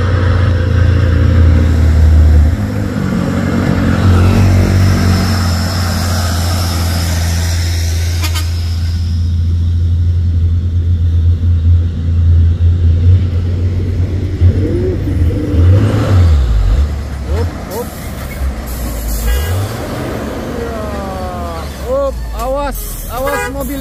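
A Mitsubishi Fuso truck fitted with a Thermo King refrigeration unit drives past close by with a heavy engine rumble and a whirring drone that later fades. People talk over it, and other traffic noise follows.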